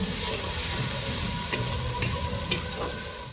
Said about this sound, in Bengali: পেঁয়াজ আমার ভাজা হয়ে গেছে লাল লাল করে।